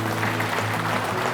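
Brief, dense applause from a crowd at a Hunt for Heroes support show honoring a named soldier, even and continuous throughout with a low steady hum underneath.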